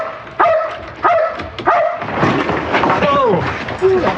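A police dog barks during a police chase, three sharp barks close by followed by whimpers and yips, with people talking over it.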